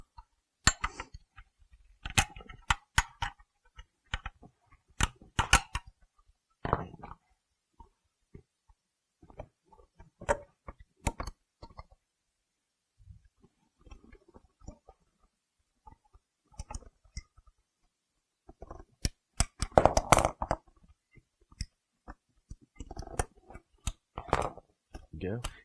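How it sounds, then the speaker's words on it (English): Plastic clips being pried and popped off a 2000-2002 Chevy driver seat, sharp scattered clicks and snaps in irregular bursts with quiet gaps, close to the listener. "So I'm going to go ahead and just take all these clips off."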